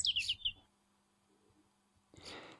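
Garden birds at a wildlife pond give a quick run of bright, high chirps close by, then fall quiet before a burst of rustling, broadband noise near the end.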